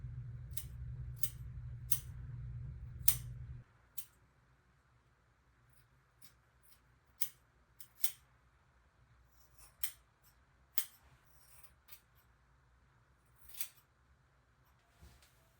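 Scissors snipping hair during an impulsive home haircut, with a low rumbling handling noise at first, then sparse, sharp, close snips spaced a second or two apart in a quiet room.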